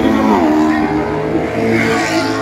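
A Mercedes and a Maserati race side by side at a racetrack, their engines roaring loud and continuous with a rising rev, blending with distant track noise throughout.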